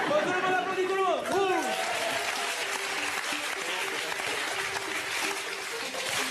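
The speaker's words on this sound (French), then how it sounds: "tout le monde applaudit, tout le monde." A comedy show audience applauding together, steady dense clapping throughout with a voice and some crowd noise over the start.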